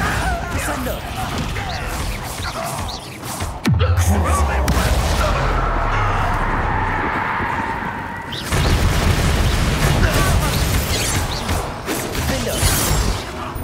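Bombarda blast spell cast in the video game Hogwarts Legacy, a sudden loud booming impact at about four seconds with a deep rumbling tail, set among game ambience and music, with people talking.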